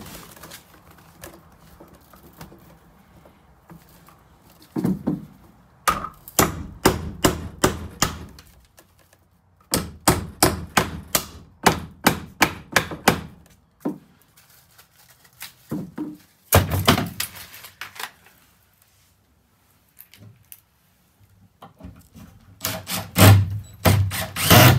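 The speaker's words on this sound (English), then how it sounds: "Can you hear my hammer over there?" Sharp hammer blows strike a wall inside a bus being converted to an RV, in quick rhythmic bursts separated by short pauses, close by and fairly loud.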